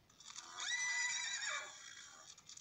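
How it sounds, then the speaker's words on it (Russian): A horse whinnies once, a loud high quavering neigh that rises and then trails off, heard on its own. "Лошадь."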